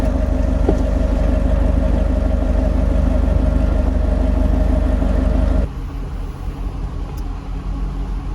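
A C6 Corvette engine idles with a steady low rumble, then the sound drops to a quieter, thinner hum partway through.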